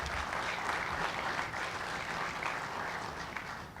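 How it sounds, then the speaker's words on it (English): Sustained, even applause from a crowd at a sports commission gathering tied to the 2017 College Football Playoff National Championship, steady and moderately loud for nearly four seconds with no talk over it. "I'd love to give our board of directors a round of applause for the Sports Commission."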